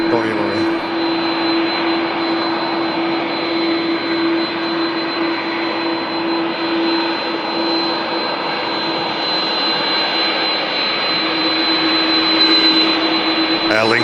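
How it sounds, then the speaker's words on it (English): Airbus A380 jet airliner engines at Manchester Airport produce a loud, continuous roar with a steady high whine, sustained throughout as the aircraft taxis nearby. "Airbus A380."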